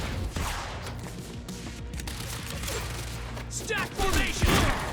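In Quantum Break, gunfire and battle noise from a video game crackle through a thick, noisy mix of bursts and clatter, with shouted voices partly over the shots.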